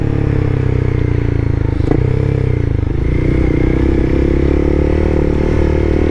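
A Honda CBR300R motorcycle engine drones loud and steady from the rider's position while cornering on a hometown road, with wind rumble and a brief change in pitch mid-turn.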